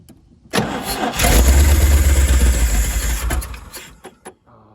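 A 1977 GMC truck engine cranks and catches after the gas is pumped, roaring loudly up close for a couple of seconds before sputtering and dying back down.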